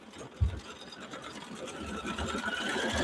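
A sewing machine stitches a diamond design on a wedding quilt with Mylar in a steady, close, continuous motorized whir. The needle chatters throughout, and a brief thump sounds near the start.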